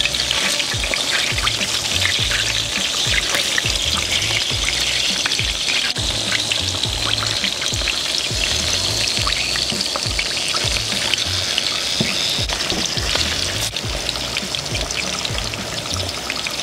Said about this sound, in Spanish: vamos a pasar a freírlos en aceite precalentado.